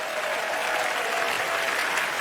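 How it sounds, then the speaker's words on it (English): Audience at a TED talk applauding as a guest is called up on stage: dense, steady clapping from a large crowd, evenly loud for the full stretch with no voices standing out. "Give him a huge round of applause."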